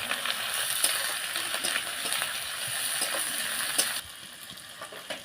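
Ginger-garlic paste and tomato fry in a hot pan with a continuous crackling sizzle and occasional stirring clinks, loud at first and then dropping to a quieter simmer partway through.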